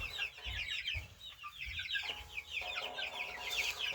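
Australorp chicks peep and cluck steadily in a busy chorus, soft high chirps overlapping at close range with no talk over them.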